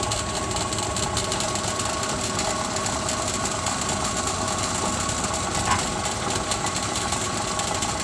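A mochi machine spins and kneads sticky, gooey rice, giving a continuous motor hum with a steady mechanical churning rhythm that stays close and even in level throughout, without talk.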